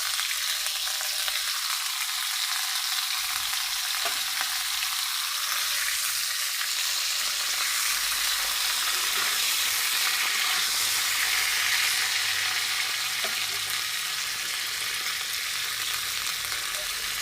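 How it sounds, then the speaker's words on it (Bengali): Cauliflower florets with turmeric, fried without salt, sizzle steadily in hot oil in a pan, a continuous loud crackle with no talking. "লবণ ছাড়া ফুলকপিগুলো ভেজে নেব"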